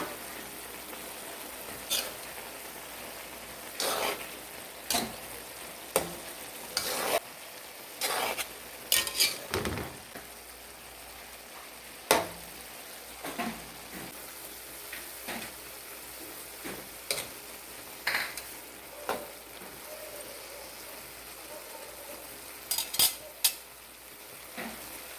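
A utensil stirs string beans for adobong sitaw cooking in a pan, giving intermittent close scraping clacks against the metal over a steady low sizzle, in irregular bursts with pauses.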